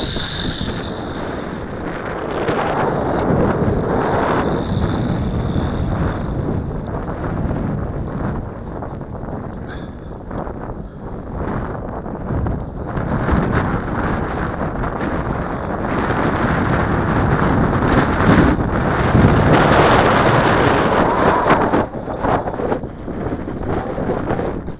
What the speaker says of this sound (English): let's see if this thing can fight this wind.